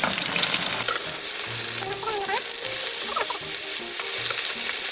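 Scallion and seafood pancake batter frying in a hot pan over high-to-medium heat gives a steady, dense sizzle with a melodic tonal background running underneath.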